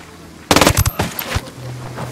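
A quick burst of gunfire in Ghost Recon Wildlands: a sharp automatic volley of several close, loud shots, followed by a few scattered reports and a fading echo over low ambient hum.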